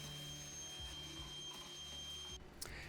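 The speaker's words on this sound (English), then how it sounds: "vacuum all of the excess bits so that we have a clean slate before we grout" A vacuum cleaner picks up leftover thinset bits from a newly tiled bathroom floor, giving a steady whine with faint bumps of debris, then a sudden shift near the end, quiet and without speech.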